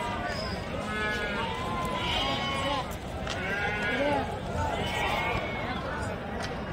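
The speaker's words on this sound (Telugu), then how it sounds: "గొర్రెలు ఉన్నాయి." Sheep at a Saturday livestock market bleating several times, wavering calls from nearby animals rising over a dense, noisy crowd with people talking throughout.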